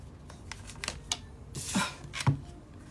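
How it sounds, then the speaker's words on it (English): A deck of tarot cards being shuffled by hand, a run of crisp papery riffles and flicks coming close and fairly loud in uneven bursts, with no talking. "I done shuffled this shit like how many times?"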